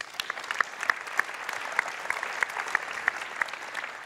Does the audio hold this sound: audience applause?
yes